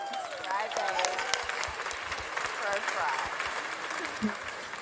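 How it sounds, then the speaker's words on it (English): A convention panel audience applauding, dense clapping and cheering throughout, with voices talking and laughing over it. "Thank you for applauding crying."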